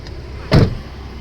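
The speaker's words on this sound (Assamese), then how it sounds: "গাড়ী চেণ্ট্ৰেল লক আছে।" A second-hand car's central locking fires once, giving a short, solid clunk close by over a quiet background hum.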